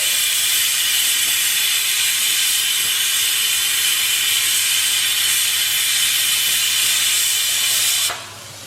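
Onions fry in oil in a pan for masala puri, a loud, steady broadband hiss of sizzling that holds evenly for several seconds, then drops off abruptly near the end.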